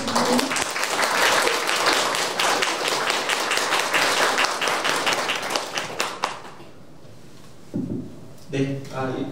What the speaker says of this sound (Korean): 교수님을 큰 박수로 맞이해주세요.